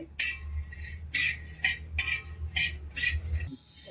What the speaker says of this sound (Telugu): ధనియాలు వేసుకుందామండి వీటిని కూడా లైట్గా రోస్ట్ చేసుకోవాలండి